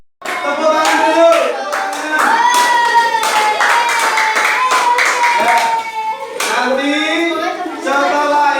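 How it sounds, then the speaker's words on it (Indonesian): A school class claps hands together in a classroom, steady close clapping running almost the whole way through with children's voices and sung or chanted tones mixed over it. "Tepuk tangan dulu."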